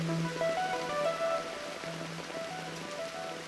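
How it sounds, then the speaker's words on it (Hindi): Steady rain patters on a surface, a continuous soft hiss with scattered drops and faint tonal sounds in the background. "और बारिश हुई"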